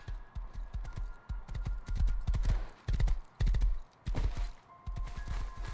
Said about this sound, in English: Let me go ahead and bring the horse around to the front.